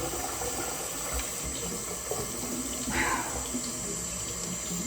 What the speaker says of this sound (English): So, I'm going to wash my face, brush my teeth.